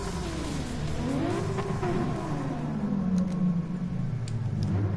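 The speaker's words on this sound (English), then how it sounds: "Revs are rising, and it's go!" Porsche Cup race cars rev on the grid at the start of a race in Japan, several engines droning and rising and falling in pitch together, loud and steady throughout with no voices.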